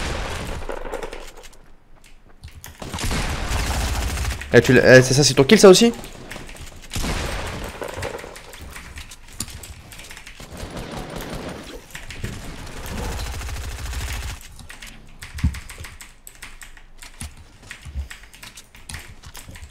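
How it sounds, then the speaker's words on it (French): Gunfire in the Fortnite video game, a short burst of rapid shots in the middle of the stretch, heard under casual talk between players and keyboard typing. "Ah ça nous a tiré dessus."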